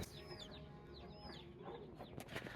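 Chickens cluck and peep in a busy indoor farm supply store, a steady chorus of bird calls under a constant background hum.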